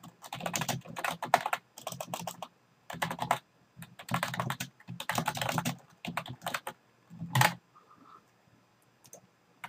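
Someone types on a computer keyboard in close, crisp bursts of rapid keystrokes separated by short pauses, followed by a couple of isolated clicks near the end.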